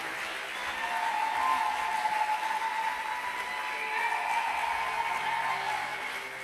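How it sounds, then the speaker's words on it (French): Congregation clapping and cheering at a church gathering, a sustained wave of applause with raised voices that holds steady for several seconds before easing off. "Est-ce qu'on peut acclamer Dieu pour lui?"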